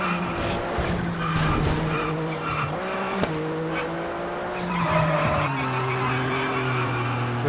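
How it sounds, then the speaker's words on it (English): A rally car drifts through a hillclimb stage in V-Rally 4 in China, its tires skidding and squealing over a steady revving engine for several seconds, loud and close. "Good drift."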